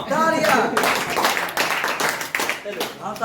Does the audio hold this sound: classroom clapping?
yes